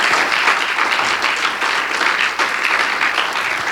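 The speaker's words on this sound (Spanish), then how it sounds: "Dele ese fuerte aplauso al Señor" A church congregation applauds for God during a Spanish-language service, a loud, dense and steady burst of many hands clapping close by, sustained for several seconds without talk.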